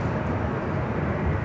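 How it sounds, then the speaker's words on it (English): A Southwest airliner takes off at LAX, a broad, steady jet roar filling the air without a break. "The Southwest flight taking off, heading to Vegas, flight 1487."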